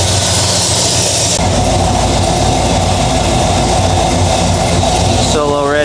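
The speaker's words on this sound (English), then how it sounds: "Bring that idle back down here now." A Quick Fuel Technology 680 carburetor-fed engine idles loud and steady, running slightly rich, with a dense continuous rumble throughout and a voice briefly speaking at the very end.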